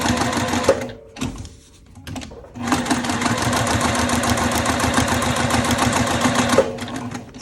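A sewing machine stitches zigzag quilting across a fabric shoulder strap pad for a sling, running in short bursts with brief pauses before a long steady buzzing run, loud and close, with no talking.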